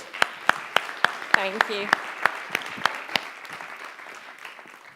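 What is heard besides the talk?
audience applause welcoming speaker to stage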